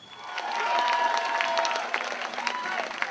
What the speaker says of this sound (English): Round of applause for Sister Ruth, y'all.